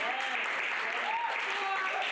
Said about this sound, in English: So give yourselves a hand clap